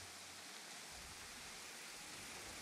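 Steady, even rain hiss in the video game Jurassic World Evolution, a continuous soft broadband wash with no distinct drops or breaks, faint and alone.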